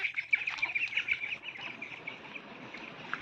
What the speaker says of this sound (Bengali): এখন এই সাইডে গিয়ে হাঁস কটা তাড়িয়ে দেবো, ওরা বেরিয়ে যাবে।